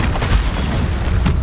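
A Bombarda explosion spell in Hogwarts Legacy, cast during a troll fight, produces a loud sustained boom that rumbles heavily and densely throughout.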